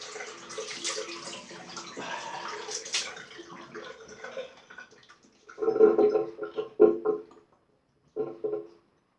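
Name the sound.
rinsing razor with water after shaving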